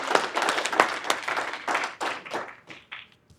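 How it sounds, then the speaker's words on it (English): Audience applause at a talk on the impact of a court case on women, a brief burst of clapping that starts strong, thins out into scattered claps and fades to silence. "So another round of applause."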